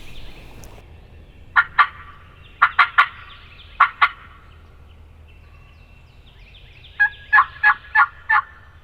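A wild turkey gobbles and yelps at a distance in short bursts, with quieter stretches of faint outdoor ambience between the calls.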